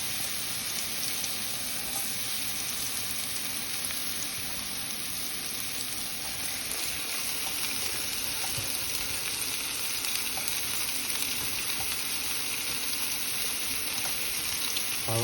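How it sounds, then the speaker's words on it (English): Onion sizzles and fries in a pan with pork, a dense, constant crackling hiss that holds steady throughout with no voices. "now we're going to be adding in the onion"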